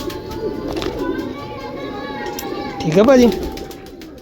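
Lakha pigeons coo in a breeding setup, a soft rolling warble rising near the end over steady background chatter, with someone speaking briefly close by.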